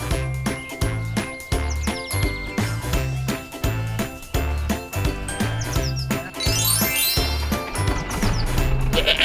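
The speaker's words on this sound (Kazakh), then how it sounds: "Қой." Sheep bleating over continuous bell jingling and tinkling, with a rhythmic backing of music; the calls are loud and repeated throughout.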